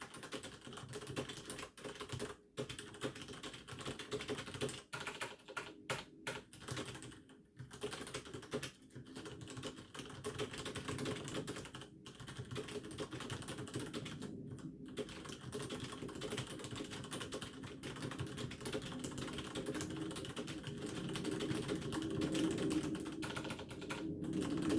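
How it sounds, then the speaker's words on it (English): Rapid clicking of Cherry MX Red keyboard switches on a Glove80 keyboard during a medium-length typing test, steady dense keystrokes with a few brief pauses, close and alone. "Here are the Cherry MX Red switches doing a medium quote typing test."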